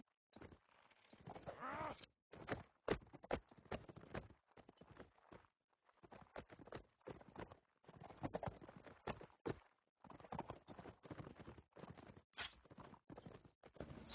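Horse hooves clip-clop in a medieval strategy game skirmish where infantry try to bring down mounted horses, the steady clatter alternating with short silent gaps across the stretch.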